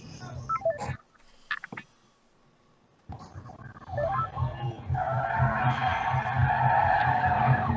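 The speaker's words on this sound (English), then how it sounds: "Who is listening to something with sirens? It's a car chase." Tires screech and skid as a car revs and races in a car chase with sirens, with a few tones and clicks before a sustained squeal building in the second half.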